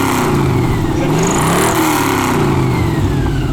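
A Cizeta-Moroder V16T's sixteen-cylinder engine revs up to about 4,500 RPM, with a deep, dense, layered roar that stays loud and close throughout, without speech.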